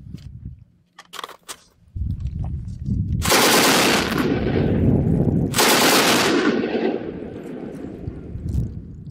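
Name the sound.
Bren light machine gun firing in video game Battlefield 5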